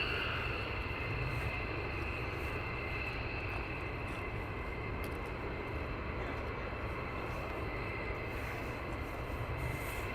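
A fighter jet at RAF Lakenheath on a cold, frosty morning with runway 24 in use, a steady distant roar of engine noise that holds at a low, even level for the whole stretch.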